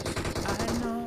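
Rapid automatic gunfire in the BGMI battle royale game during a team deathmatch, a fast close burst of shots followed by a ringing tail and a short electronic tone.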